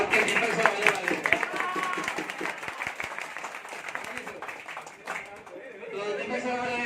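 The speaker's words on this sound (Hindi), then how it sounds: "थोड़ी तालियां तो बजा दो" An audience at a Teachers' Day gathering claps in a busy, crackling burst that rises and falls, with voices mixed in throughout.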